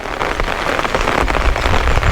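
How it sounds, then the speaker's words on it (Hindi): Steady, loud rain pours on surfaces at Bayana Fort in Bharatpur, Rajasthan, a dense continuous patter with scattered nearby drips and no voices. "अभी तो खैर बारिश हो रही है इस टाइम पे"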